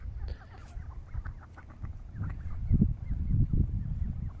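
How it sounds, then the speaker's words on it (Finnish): Ducks swimming on water in Kajaani, Finland, approaching in hope of food, give a run of low, overlapping quacks and clucks at close range, steady and fairly loud throughout. "Olen vähän kuvailemassa tässä sorsia."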